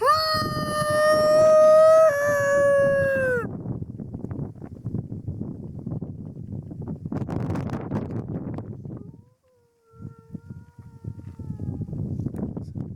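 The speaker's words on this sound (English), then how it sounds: "It was like a distinct howl." A loud, sustained wavering howl rings out in the woods during a Bigfoot-hunting outing, followed by rustling, footsteps and wind. A fainter, thinner drawn-out call sounds again near the end.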